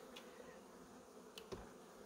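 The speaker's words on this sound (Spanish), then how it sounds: "Ya veis la cantidad de abejas que hay." Honeybees buzz around an open, healthy hive full of brood and nectar, a faint, steady hum with a few louder passes close by. No voices are heard.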